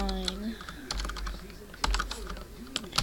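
Typing code on a computer keyboard, quick irregular clusters of close key clicks with short pauses, while someone talks faintly underneath.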